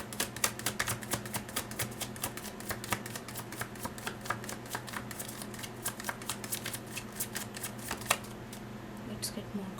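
A tarot deck is shuffled by hand in a rapid run of crisp riffling clicks and flicks, close and steady over a faint low hum, with a brief pause near the end.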